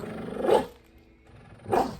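A dog growling and barking during play, two close, loud rough bursts about a second apart with quieter grumbling between them.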